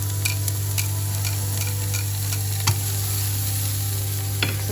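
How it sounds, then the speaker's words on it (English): Garlic sizzling in hot oil in a wok, a steady soft frying hiss with occasional stir clicks and scrapes, quiet and close with no talking. "we put some oil there in the wok. Here it's sizzling. We're going to put the garlic in first."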